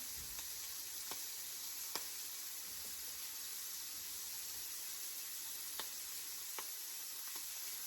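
Stuffed salmon fries in a pan with a steady, even sizzle, broken by a few faint scrapes or taps from a utensil, and nobody speaks.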